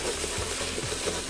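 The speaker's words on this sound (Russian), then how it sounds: "Активно мешаем." A steady broadband sizzle with faint scraping as a thick hot mixture of honey and eggs is stirred in a pot, continuous and close.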